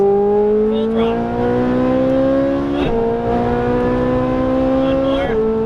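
A Ferrari 458 Italia howls at full throttle around a racetrack, its engine pitch climbing steadily through the gears with brief dips at each upshift, loud and close from inside the car.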